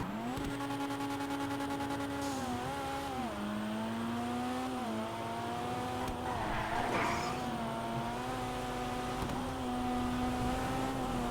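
Dinka Jester Classic, a sporty non-supercar in a video game, driving on the freeway with a steady droning engine, shifting pitch as it revs and eases, with brief tire squeal partway through.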